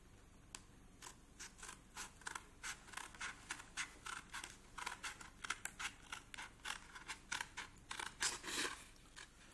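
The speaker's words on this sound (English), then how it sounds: "Then cut along the template." Scissors snipping through black Bristol paper along a template, a quiet, regular series of crisp cuts and scrapes close to the listener, with no talking.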